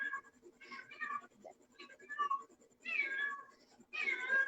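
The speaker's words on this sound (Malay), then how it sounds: "So ada gangguan kucing lah" Cat meowing outdoors in repeated drawn-out, wavering cries, fairly faint and somewhat distant, with quiet gaps between calls.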